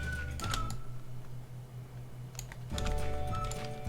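Computer keyboard keys pressed in quick clusters while working in Photoshop, two bursts of close, crisp clicks separated by a short pause, over a steady low hum.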